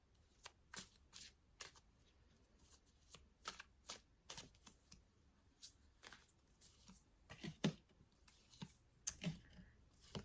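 Tarot cards being shuffled, a soft run of quick riffling clicks and light slaps repeating irregularly, close and quiet with no voice over it.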